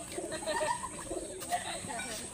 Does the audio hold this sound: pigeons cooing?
yes